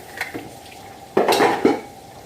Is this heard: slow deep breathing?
no